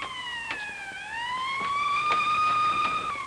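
A police car siren wails from a 1948-era scene, its steady tone dipping then climbing as it grows louder and nearer, with faint background noise and no talk.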